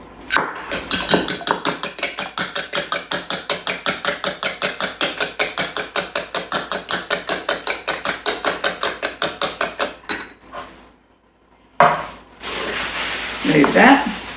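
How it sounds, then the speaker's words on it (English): An egg is whisked in a bowl with fast, steady clinking strokes for about ten seconds. The strokes stop, a short silence follows, and then a brief clatter of kitchen handling. "We're going to whisk it."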